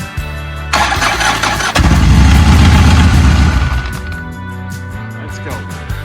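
A car fitted with a new starter cranks briefly, then fires into a loud, close roar that settles toward a steady idle over several seconds.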